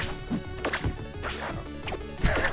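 A quick run of cartoonish whacks and thuds with a final crash-like smack as a Rivals of Aether character face-plants in a dash attack, punchy game-style impact effects stacked close together with no talking.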